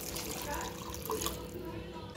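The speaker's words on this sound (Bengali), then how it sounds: "তো এখন আমি জল দিয়ে দেবো।" Water poured into a pan of pomfret fish curry whose spiced, fried masala has released its oil: a steady, close liquid wash with light splashing lasting throughout.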